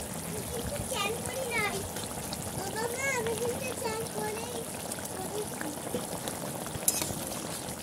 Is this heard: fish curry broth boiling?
yes